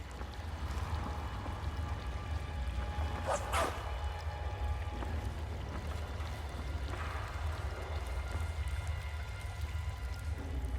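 In Skyrim, a dog barks while in the water, a couple of short sharp barks over a steady rushing water background, with a fainter yelp later.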